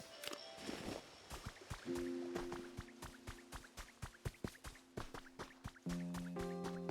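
Water from a player-made waterfall in the video game Pokemon Pokopia, heard as a steady run of dripping, plinking splashes over sustained musical tones.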